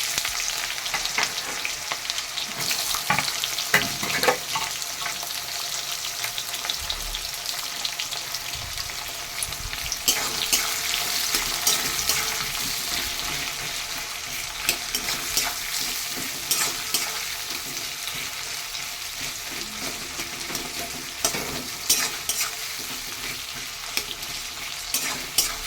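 Two onions frying in a pan for homemade pulao, a loud continuous hiss and crackle broken by repeated scraping stirs of a spoon against the pan, close up with no voices.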